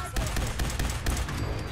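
Rapid gunshots in Fallout 4, a string of loud, close reports in quick succession that blur into a continuous fusillade without a pause.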